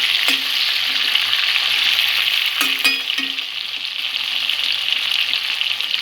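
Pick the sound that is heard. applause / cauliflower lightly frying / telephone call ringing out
cauliflower lightly frying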